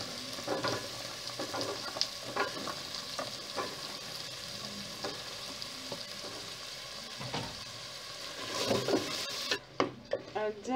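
Potatoes tumble into a pot of oil for vegetable pilau, sizzling and frying steadily while a utensil stirs and scrapes with scattered knocks against the pot, close and fairly loud throughout.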